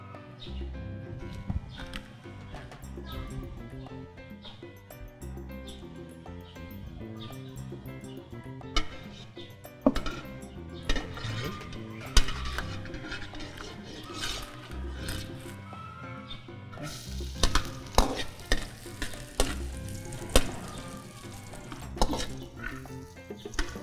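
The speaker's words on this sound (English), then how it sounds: "First, we will saute the onion and the garlic." Onion and garlic sauté in a pan, with clattering utensil strikes and stirring scrapes against the cookware over a busy kitchen background, close and irregular, with intermittent louder clinks.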